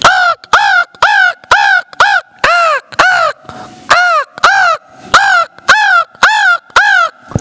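A man imitating a crow cawing, producing a rapid string of about a dozen harsh, nasal caws in steady rhythm, loud and close with brief gaps between them.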